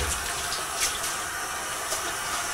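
Water runs steadily into a sink while a beer keg is rinsed out, a constant splashing rush with a few brief brighter splashes over its short length.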